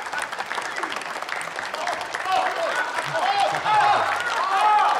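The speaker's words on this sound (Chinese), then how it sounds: "感谢大家这么热烈的掌声啊" Warm applause from a studio audience at a televised Tianjin crosstalk (xiangsheng) show as two performers take the stage, a dense, sustained patter of clapping that swells louder toward the end.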